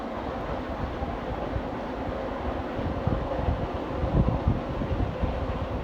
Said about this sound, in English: And the sound of two trains actually echoing across the valley.